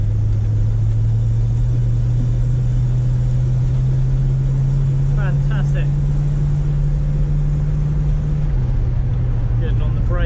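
A 1968 Ford Mustang engine drones loud and close in a steady low tone, climbing slightly in pitch and then dropping back as the car is pushed hard at the drift limit, with a voice talking over it.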